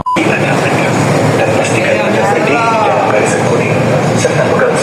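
A metro train rumbles and hums steadily throughout, with a faint rising whine and occasional clinks over constant rail noise.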